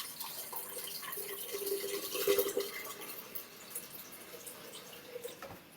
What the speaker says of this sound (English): we're going to take the basic recipe, 3 cups of water, right in we go